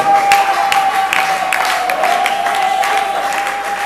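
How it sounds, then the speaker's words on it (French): Festival audience applauding for Madame Posso as she is called up for a merit diploma, a steady crowd of clapping with a sustained tone running underneath throughout. "Sous vos applaudissements."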